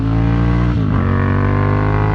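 A Ducati Monster motorcycle engine runs loud and close. Its deep throbbing note dips briefly in pitch and then holds steady as the engine revs.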